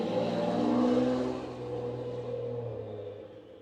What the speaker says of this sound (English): Your truck is very loud.